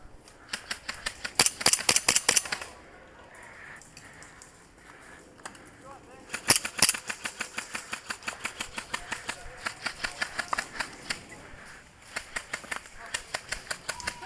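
Rapid bursts of airsoft fire from KWC 1911 "Rail Gun" pistols, dual wielded during gameplay, crack out as sharp clustered pops in fast strings with short pauses between volleys, close and loud, with voices talking in the gaps.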